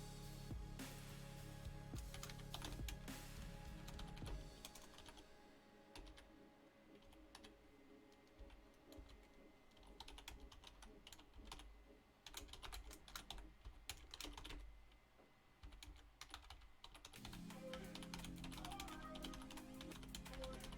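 Rapid, irregular keystrokes tap on a computer keyboard in bursts, close and fairly quiet, with brief pauses between runs of typing and no talking.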